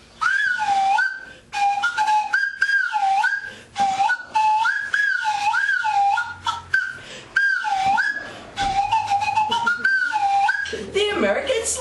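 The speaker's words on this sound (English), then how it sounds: "When you add a slide to the whistle, you get a slide whistle." A slide whistle plays a bouncy tune of quick swooping notes gliding up and down, loud and close, with short pauses between phrases.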